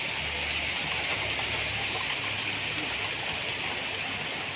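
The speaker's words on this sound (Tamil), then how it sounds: "மழை பெய்யுது கேட்டுங்களா? மெதுவா மழை" Gentle rain falls in a village at Veppampattu, producing a soft, even, continuous hiss at a steady level with faint low background rumble and no talk.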